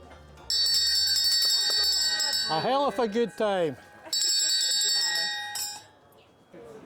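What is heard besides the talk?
ringing a good-fortune bell in York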